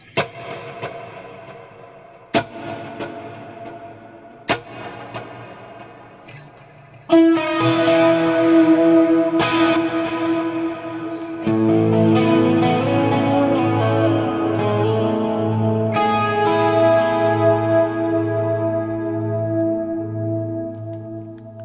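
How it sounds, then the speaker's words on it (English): Electric guitar through a Headrush effects unit, plucks start sparse, each tail smeared with echo, then swell into a dense, shimmering wash of two stacked reverbs, three delays including a quarter-note repeat, and modulation, ringing out long. "So am I stacking two reverbs and doing 3 delays and 2 mods?"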